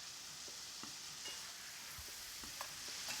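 Halved and quartered potatoes fry in a pan with tomatoes, giving a continuous soft sizzle with faint stirring scrapes and no voices.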